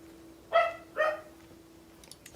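A dog in the Crusader Kings III strategy game gives two distinct barks about half a second apart, clear and fairly close, followed by quiet with faint clicks.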